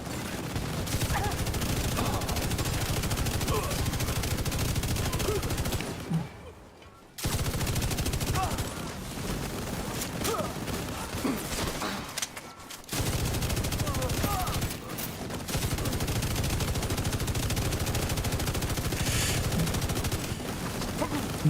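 Sustained minigun fire in The Division during a PvE fight, long dense bursts of rapid gunfire broken by a couple of short pauses, with game voice callouts mixed in.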